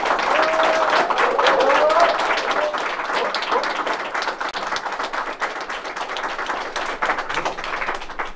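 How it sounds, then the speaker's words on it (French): Studio audience on a French talk show applauds a guest, a dense, steady wash of many hands clapping throughout, with a few voices and a faint whistle rising above the clapping early on. "Veuillez tous applaudir Sophia."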